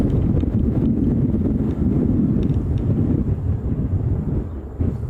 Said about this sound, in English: Yes, it is a little windy today